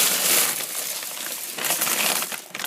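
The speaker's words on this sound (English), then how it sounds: "I'll let you guys hear all the little pasta granules or whatever hitting this" Dry pasta pours out onto foil in a continuous rattling patter of small hard pieces, close and crisp, with slight surges in intensity as the stream shifts over a few seconds.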